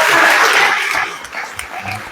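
An audience at a religious gathering claps together during an evening Bhagavata-saptaha recitation, a broad burst of hand clapping that starts loud and gradually tapers off, with faint background murmur.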